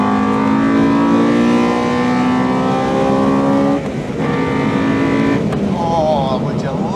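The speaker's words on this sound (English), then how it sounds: "That is unquestionably the loudest VTEC I've ever heard in my life." A Honda DC2 Integra Type R with VTEC screams up through the revs in long rising sweeps, loud and close, then drops and climbs again as it changes gear.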